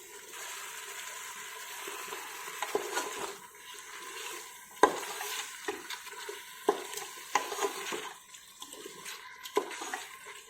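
Tomato and chicken sautéing in a pan for biryani, with a steady soft sizzle and repeated scraping, stirring knocks standing out at intervals, close and alone with no talk.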